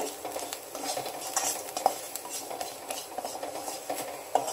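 Sambar powder sautés briefly in a pan with a soft sizzle and scattered stirring scrapes of a utensil against the metal, fairly quiet and close.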